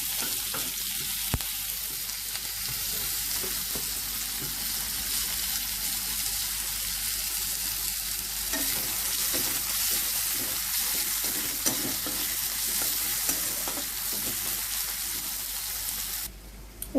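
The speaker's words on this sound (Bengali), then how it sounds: "পেঁয়াজ কুচানোটাও দিয়ে দেব" Chopped onions and kalonji (nigella seeds) sizzle and fry in hot oil in a pan, a steady continuous crackle with occasional stirring scrapes, no talking.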